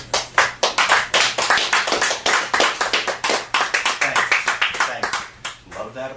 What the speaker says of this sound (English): Love that applause.